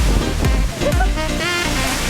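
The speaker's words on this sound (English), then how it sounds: "at this two-tier waterfall and like massive force just coming out from the top" Heavy rushing water from a powerful two-tier waterfall in Lombok, Indonesia, a loud, steady roar with surf-like wash and wind buffeting the microphone, close and continuous throughout.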